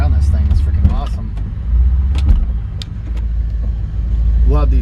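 A 1968 Chevrolet Corvette with a 350 V8 crate engine and automatic transmission, heard from inside while driving: a close, throaty engine rumble that swells and eases, with a voice talking over it.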